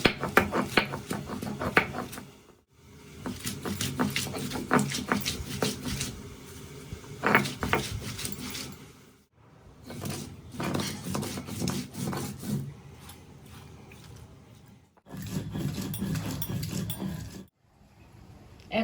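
Mint leaves and green chillies are ground together on a stone, giving rhythmic rough rubbing and rasping strokes in several bursts separated by short pauses, close and fairly quiet, with no talking.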